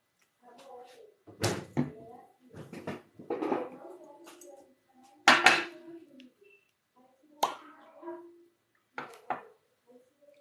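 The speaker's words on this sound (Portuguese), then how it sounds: "Eu só vou pegar um copo para beber água." Someone fetches a drinking glass in an indoor room: several sharp knocks and clatters of a cupboard and glass, separated by short pauses, close and fairly loud against near silence.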